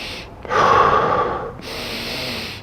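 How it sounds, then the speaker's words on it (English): A slow deep inhale through the mouth swells for about a second, then a quieter, longer exhale through the mouth follows. The close breathing is alone in a squat-training setting. "Focus on taking the breath in, expanding it, and as you let the breath out through your mouth slowly, push your stomach down."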